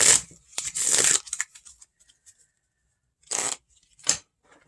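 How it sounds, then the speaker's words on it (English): Playing cards are shuffled close by in a few quick riffling bursts separated by pauses, then two short final riffles. "And then I'm going to do some shuffling while you look at the game board."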